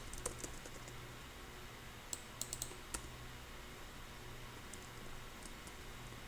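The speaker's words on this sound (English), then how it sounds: "Now let's type in Mariners." Faint typing on a computer keyboard, a handful of light, scattered key clicks spread over several seconds against a quiet background hiss.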